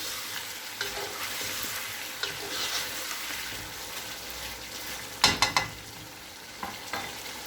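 Chicken korma is stirred in a cooking pot, giving a continuous close sizzle with scraping strokes and a short burst of clattering metal contact near the end, with no voices.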